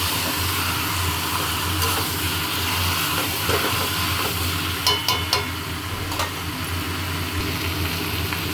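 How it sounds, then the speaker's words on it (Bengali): Chicken and pre-fried potatoes with garlic sautéing in a pan: steady loud sizzling and hiss throughout, with a few clinks and scrapes of stirring near the middle, no voices. "আলুটাও এর সঙ্গে কষছি, কেন চিকেন তাড়াতাড়ি সেদ্ধ হয়ে যায়"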